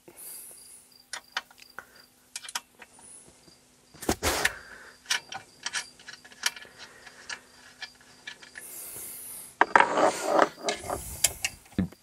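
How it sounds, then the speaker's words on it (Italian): Bolts being unscrewed from a swivel seat inside a Pössl Summit 600 Plus camper van, with scattered metallic ticks, clicks and ratcheting clatter close by, plus a couple of louder knocks and rattles. "Dobbiamo rimuovere i bulloni,"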